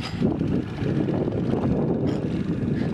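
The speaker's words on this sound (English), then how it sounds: "God, it's revving that engine." A loud, rumbling motor drones steadily up close, with a rough low roar that swells slightly at moments but never stops.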